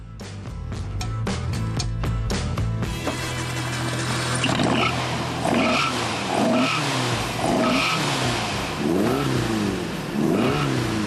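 A stripped-down motorsport car with a 2-liter, 145-horsepower boxer engine accelerates hard, its loud engine revving and shifting up through rising sweeps while tires squeal. The sound is close and steady, with no voices.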